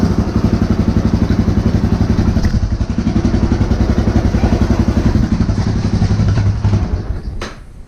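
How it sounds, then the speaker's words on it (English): A Honda 400EX ATV engine turning over on its electric starter and then running with a rough, steady mid-pitched rumble, loud and close, fading near the end, with no voices. "I turn my key on. I hit the starter."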